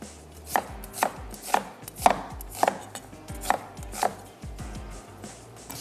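Onions being roughly chopped with a knife on a board, about eight crisp, evenly spaced chops close up, each with a sharp knock and short ring.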